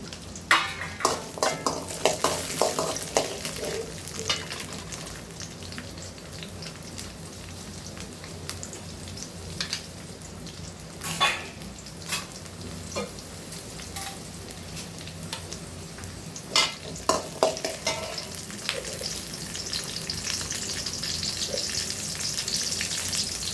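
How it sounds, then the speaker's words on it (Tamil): Small onions frying in hot oil for a tangy bean and bottle gourd curry, a steady sizzle lasting throughout with intermittent scraping stir clatter from a utensil, fairly close and without voices. "எண்ணெய் காஞ்சதும் கொஞ்சம் வெங்காயம் சின்ன வெங்காயம் கொஞ்சம் ஒழிச்சு வச்சுருக்கேன் அதை போட்டு"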